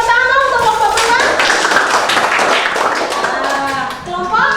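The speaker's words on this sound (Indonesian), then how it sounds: "Tepuk tangan untuk kelompok beruang" Children in a classroom clap for a group, the bear group, in a lively, slightly uneven burst of hand claps and taps close by, with young voices chattering over it.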